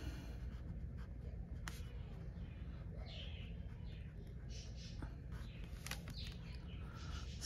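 An Olight pen writes on paper, faint scratchy strokes and short scribbles in a quiet room with steady low background hum.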